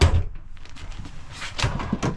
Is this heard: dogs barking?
no